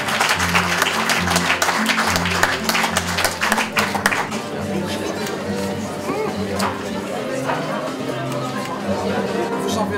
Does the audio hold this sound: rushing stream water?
no